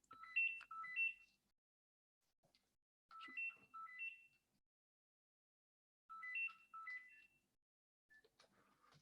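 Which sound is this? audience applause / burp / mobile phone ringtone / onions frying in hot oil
mobile phone ringtone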